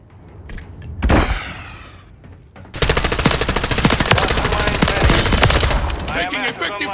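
Rapid automatic gunfire in Call of Duty: Modern Warfare 3 opens with a short burst, then a loud, sustained barrage of close shots runs on for several seconds. Brief game voice lines sit in the mix.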